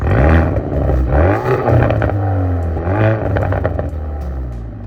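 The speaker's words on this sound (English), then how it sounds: "around to the back you'll find your active variable exhaust system" A Hyundai i30 N Performance's turbocharged engine revs through its active variable exhaust, which burbles loudly up close, with factory crackling pops and rumbling bursts as the engine rises and falls.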